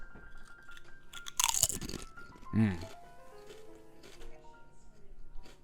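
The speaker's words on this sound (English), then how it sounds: "That crunch, that crispy, crunchy goodness." Crunching on cheddar barbecue Cardi B flavored potato chips, a burst of loud, crisp bites close to the mic followed by quieter chewing, with talking around it.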